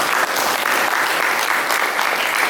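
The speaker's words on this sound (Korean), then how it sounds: "하나님께 영광의 박수." A church congregation bursts into loud, dense applause during a Sunday worship service, steady clapping that fills the room without pause.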